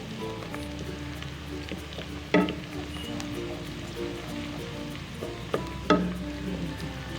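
Onions frying in a pan until light brown for a Chinese-style karahi, a steady low sizzle with a few clear utensil clanks and stirring scrapes, a faint hum underneath.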